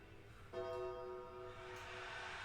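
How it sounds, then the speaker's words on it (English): A gong rings out at a televised wrestling event, striking once with a loud onset and then sustaining a bright, shimmering tone with steady harmonics over a noisy arena background. "The gong went off and the screaming."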